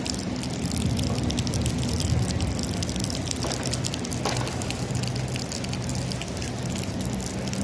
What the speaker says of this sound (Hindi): माशाल्लाह बहुत खूबसूरत बारिश हुई है।